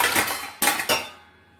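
Dirty dishes, a tea pot and a kadhai clink and clatter as they go into a Bosch dishwasher in an Indian kitchen, with a couple of sharp metallic knocks over a bright rattle that then fades away.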